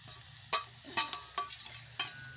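Green chillies, spice powder and coriander stirred into a hot frying pan: a low sizzle with several sharp scraping strokes of a spoon, close and without voices.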